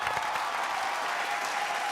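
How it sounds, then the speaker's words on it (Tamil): A studio audience at a Tamil children's TV game show claps steadily in a dense, even burst of applause, moderately close and lasting throughout without any talking. "ஒரு பெரிய கைத்தட்டல்கள் ப்ளீஸ்"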